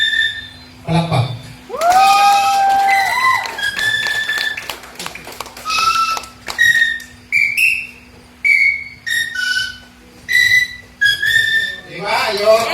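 A wedding song whistled in clear, separate notes, some long and sliding, some short and bright, with light tapping and faint crowd noise underneath.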